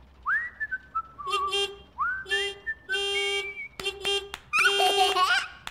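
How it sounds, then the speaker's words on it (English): Someone whistles in short rising and wavering notes, broken by bursts of bright tonal squeaks and a few sharp clicks, fairly close. "Trying to whistle"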